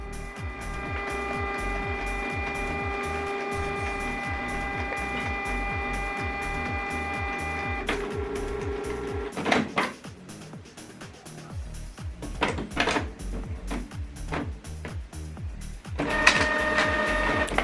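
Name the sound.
printer printing a 4x6 return label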